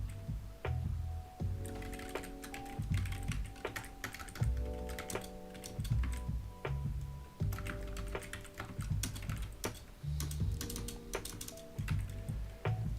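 Rapid, uneven typing clatters on a computer keyboard close by, with bursts of keystrokes and short pauses, alone and fairly quiet.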